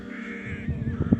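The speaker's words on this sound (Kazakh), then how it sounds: "Большая редкость. Белая ворона." A white crow, a rare hatchling from Karasaz, gives a few hoarse caws toward the end, close and moderately loud over faint background noise.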